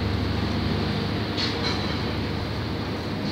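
A train runs along a railway line just behind a wall beside a tower construction site in Croydon, heard as a steady, unbroken rumble and rolling roar that holds at an even level throughout.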